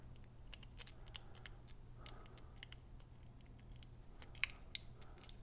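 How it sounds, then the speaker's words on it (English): Scissors trim the wire ends of a shielded CAT6A network cable before it goes into a pass-through RJ45 plug, giving a quick series of sharp, close snips over a low steady hum. "let's go ahead and trim it to make it nice and even"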